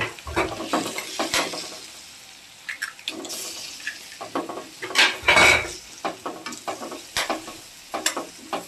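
Three eggs frying and being stirred in a pan for egg rice, steady sizzling broken by frequent sharp spatula scrapes and metallic clinks against the pan, close and fairly loud, with no speech.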